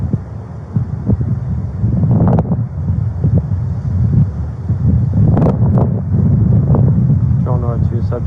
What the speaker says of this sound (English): It's really hard to hear out here with this wind.